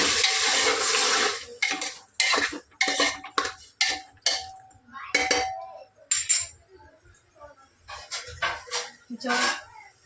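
Metal utensil scraping and clanking in a pan of chicken, in short bursts of stirring with pauses, close and fairly loud.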